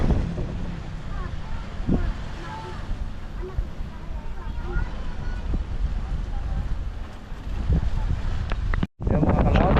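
Strong wind gusts over Taal Lake from a boat, roaring and buffeting the microphone steadily, with talking voices heard through it and a brief dropout near the end.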